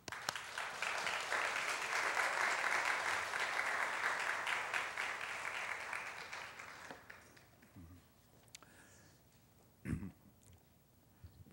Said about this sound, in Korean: 우리 환영하는 마음으로 박수하겠습니다.